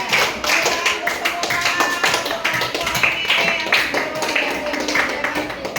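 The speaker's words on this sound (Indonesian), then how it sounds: "Tepuk tangan untuk Iya." Classroom applause at a junior high school in Teluk Mengkudu: dense, steady clapping from a group of students lasting the whole stretch, with voices mixed in beneath.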